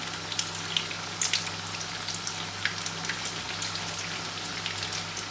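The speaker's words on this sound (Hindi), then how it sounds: "तो इसको फ्राई कर लें। ये देखिए इसकी साइड चेंज करने लगी हूँ।" Vegetable cutlets fry in hot oil in a pan, a steady soft sizzle with faint crackling pops, heard close and alone over a low background hum.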